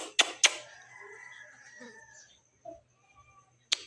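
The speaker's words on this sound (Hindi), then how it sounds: "मुर्गा बहुत जालिम है" An aging village rooster with a worsening windpipe crows in a long, strained call after two sharp bursts, then gives a few soft clucks; close and clear with no talking.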